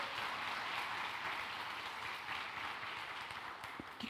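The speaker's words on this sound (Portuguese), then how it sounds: "Dê uma salva de palmas para Jesus" Applause from a church congregation during a Portuguese-language service, a steady, fairly faint wash of clapping that holds evenly throughout with no speech over it.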